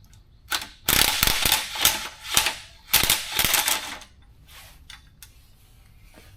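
A sensor socket on a ratchet backs out the head temperature sensor during a 2.5L engine swap on an NC Miata, giving loud rapid clicking bursts in several runs, then quieter scattered clicks.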